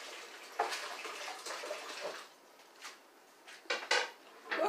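An item rinsed under a running tap while making blueberry smoothies, soft continuous splashing with a few louder clatters and knocks near the end, quiet and close, no voices.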